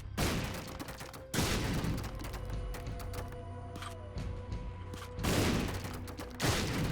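Bombs exploding in The Binding of Isaac: Repentance, with loud booming blasts at the start, after one second and twice near the end, and quieter game tones and clicks in between.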